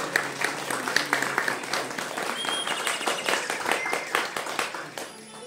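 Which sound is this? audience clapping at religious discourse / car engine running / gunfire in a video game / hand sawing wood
audience clapping at religious discourse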